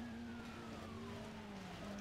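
A police car siren wails faintly in the racing video game Need for Speed World, a slowly falling tone under a steady car engine drone throughout.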